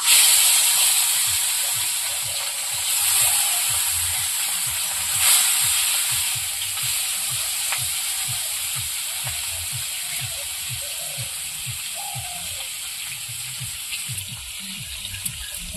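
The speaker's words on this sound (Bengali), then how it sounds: "এবার মাছটা ভেজে নেব।" Rohu fish fries in hot oil in a home kitchen, a continuous bright crackling sizzle with popping spatters throughout, fairly loud and even, with no voices.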